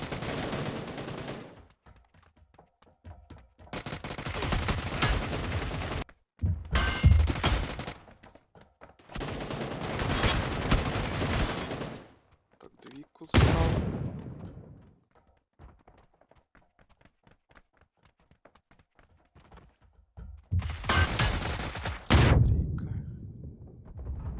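Bursts of rapid UMP45 submachine gun fire from the video game New State Mobile, several long volleys separated by brief pauses, loud and close.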